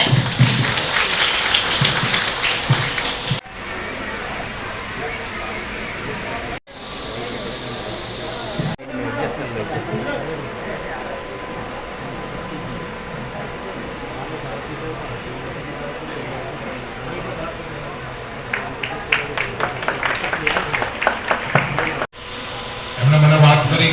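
An audience at an event applauds loudly in dense sustained bursts, with a quieter stretch of crowd murmur and chatter in the middle before clapping swells again at the end.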